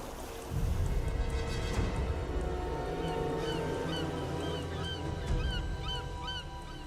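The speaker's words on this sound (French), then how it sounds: "Il y a des mouettes." Seagulls calling at a lagoon, a series of short repeated cries over a constant wash of water and low rumble, moderately distant.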